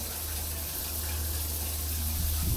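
Water runs steadily from a bathroom tap, a continuous hissing rush that stays even throughout, with a low hum beneath and no talking.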